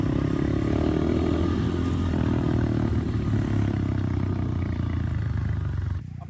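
A cheap dirt bike fitted with a big bore kit is ridden hard, its engine roaring and revving steadily up close with rattling clatter, then cutting off abruptly near the end.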